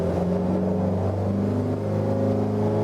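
A Corvette of over 1300 wheel horsepower roars on a dynojet dyno during a pull. The engine holds a loud, steady, droning howl with a rich low rumble, and its pitch shifts only slightly across the run.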